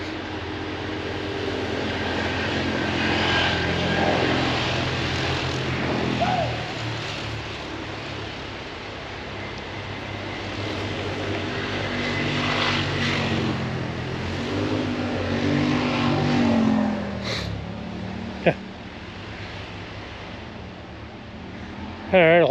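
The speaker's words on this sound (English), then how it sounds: "Sounds like got some ATV riders coming up through here." ATV riders approach along a woodland trail on a springtime walk, several engines droning and revving continuously, building and swelling in loudness, with a person talking over the noise.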